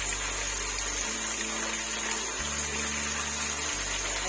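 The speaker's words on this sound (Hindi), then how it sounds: "अब ये थोड़ा सा पानी डाल के इस जग में हम वो पानी दोबारा डाल देंगे" Water pours into a jug in a home kitchen during chicken curry cooking, a steady, continuous rushing wash with a faint low hum beneath. It stays even and fairly loud throughout.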